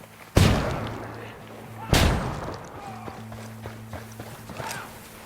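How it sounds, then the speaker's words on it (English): A flashbang goes off in Ghost Recon Wildlands, with two loud, sharp blasts about a second and a half apart that ring out over a low steady in-game hum, followed by fainter scattered knocks. "Lobbing a flashbang"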